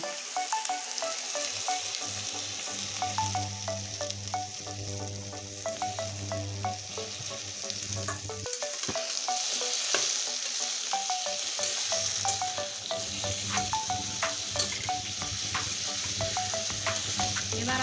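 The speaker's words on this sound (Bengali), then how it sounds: "যতক্ষণ পেঁয়াজ লাল না হবে এতক্ষণ আমি ভাজতে থাকবো" Onions fry in hot oil in a pan for a rohu fish and potato curry, a steady close sizzle with frequent crackling pops and stirring scrapes running throughout, and no voices.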